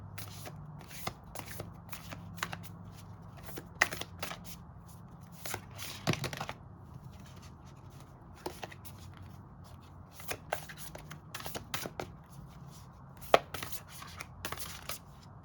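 Whispers of Love oracle cards are shuffled close up in a steady run of soft riffling and slapping bursts, with a few sharper snaps, continuing alone with no talking.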